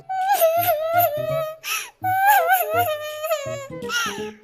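A high, wailing cry of a cartoon tailorbird rises and falls in drawn-out sobbing bursts, sounding like a voice imitating a crying bird, with short pauses between.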